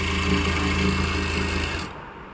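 A sewing machine runs steadily, stitching stretched elastic into a small summer dress for a Laddu Gopal figure, its dense motor whir continuing alone before cutting out near the end.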